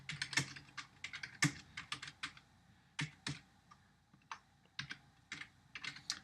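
Rapid keystrokes on a computer keyboard while code is typed, coming in short irregular bursts of close, crisp clicks separated by brief pauses.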